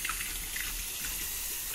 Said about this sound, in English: get some warm water